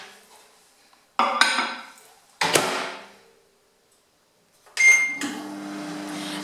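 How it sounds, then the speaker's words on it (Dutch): Mug of egg handled at a microwave: sharp clinks and knocks of the mug and door, then a spoon scraping as the contents are stirred, near and clear, no talk. "de 30 seconden haal je je mok uit de magnetron en roer je alles even goed door elkaar"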